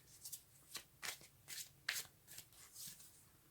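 Tarot cards are shuffled by hand in a series of soft riffling bursts, about seven quick brushes spread evenly, close and quiet with no talking.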